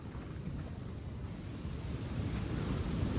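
Ocean waves at the seaside wash in with a steady broad rush, mixed with wind buffeting the microphone, continuous and building slightly over a few seconds with no voices.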